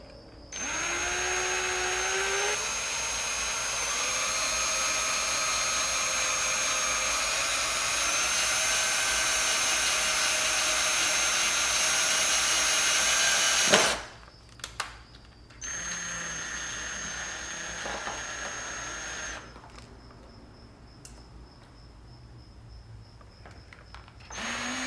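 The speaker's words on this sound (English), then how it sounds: "you want to drill it downward." Power drill boring a hole in a 2019+ Kawasaki ZX6R motorcycle fairing to fit a ZX10R mirror mount, a steady close whine for about fourteen seconds, then short bursts and a few stop-start runs as the bit is worked.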